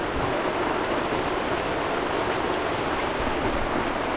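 Heavy rain falls as a dense, constant hiss and roar, loud and unbroken from start to end, with no voices.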